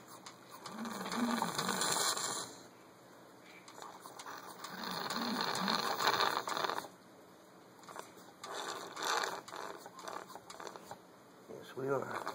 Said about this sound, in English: I'm going to use the pumper. And we're going to suck this honey out of there.